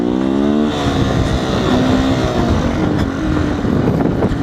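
A 2019 Beta 125 RR S dual sport motorcycle is ridden with a loud, close engine whose pitch climbs, drops sharply at a gear shift and rises again, with continuous wind and road noise throughout.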